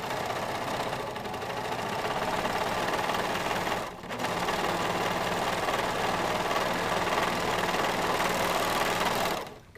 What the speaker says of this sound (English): we're gonna serge all these seams